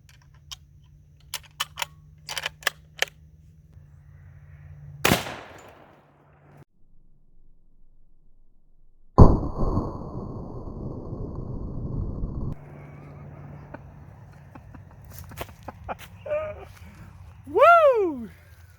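A single loud, sharp 30-06 rifle shot bursts out midway, its blast ringing briefly before fading. Quieter clicks and a voice come before and after it, and an excited whoop follows near the end.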